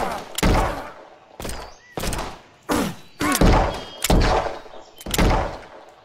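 Heavy gunshots ring out in a WW2 bunker simulator video game, about eight booming reports spaced roughly half a second to a second apart, with a voice between them.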